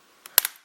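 A laptop keyboard cracks as it is pried out during a repair with iFixit tools: one sharp snap, then a second crack, both short and fairly loud, with no voices.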